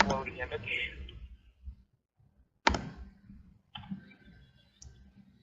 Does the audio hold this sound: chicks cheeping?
no